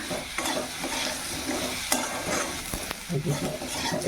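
Salted potatoes frying in a pan on a home stove, loud close sizzling with repeated scraping stirs and a few sharp knocks of the spatula.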